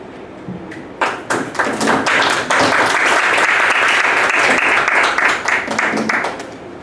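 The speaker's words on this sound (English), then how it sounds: "a round of applause for her once again" Audience applause fills a conference hall at a Bitcoin event in Cape Town, starting with scattered claps and swelling into dense, sustained clapping that continues to the end.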